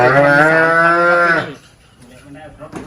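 A calf on a cattle farm gives one loud, close, drawn-out moo lasting over a second, followed by quieter rustling and faint background sounds during a lumpy skin disease vaccination.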